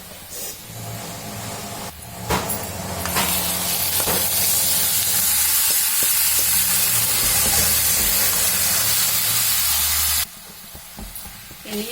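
Sprouted horse gram hits hot tempering oil with golden-brown onion, setting off a loud, steady sizzling hiss that swells after a couple of clangs and runs for several seconds before cutting off abruptly.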